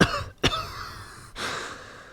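A single sharp cough breaks out, followed by a raspy gasping breath a moment later, close to the microphone with no speech.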